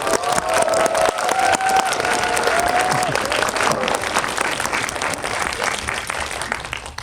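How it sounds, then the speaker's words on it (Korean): A packed screening audience at a guest visit for Bong Joon-ho's Mickey 17 greets the director with loud, continuous applause, scattered cheers and voices rising through the dense clapping before it eases slightly. "봉준호 감독님 입장하실 때 큰 박수로 맞이해 주시기 바랍니다"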